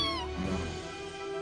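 A cat lets out a short, whiny meow close up, one drawn-out call with a faint voice-like murmur beneath it.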